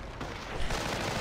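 Sustained suppressive machine gun fire from a half-track in a World War II strategy game battle, a dense continuous rattle of gunfire with occasional louder bursts, no talk.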